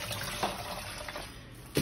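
Tap water running steadily while fruit is washed at a sink, a close continuous splashing hiss with small clinks near the end.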